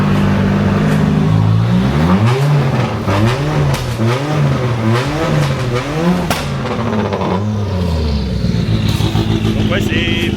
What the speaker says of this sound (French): Là il y a Nico qui est en train de chauffer la voiture.